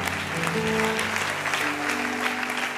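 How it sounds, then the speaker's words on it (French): A church congregation applauds together in a continuous dense clatter of many hands, with sustained tones of music or voices ringing underneath throughout. "vraiment, acclamons encore le Seigneur"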